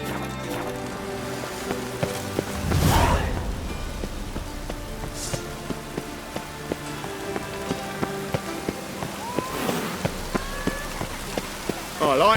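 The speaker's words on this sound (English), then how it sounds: "I like rain. Keeps the rogues indoors." Rain falls steadily in The Witcher 3, a constant hiss across the whole stretch, with faint clip-clopping hooves and a couple of brief swells of other game sounds.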